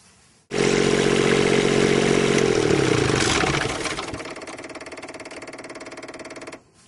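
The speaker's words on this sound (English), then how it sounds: "you want to turn the generator on and then let it run for a minute or two" An RV generator engine starts up and runs steadily with a loud, even mechanical drone and clatter, shifting in tone partway through before settling, then cutting off near the end.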